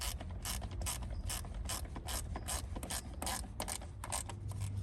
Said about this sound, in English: So we're just getting these bolts tightened up gradually, corner by corner, and then we're gonna torque them to 13 foot-pounds.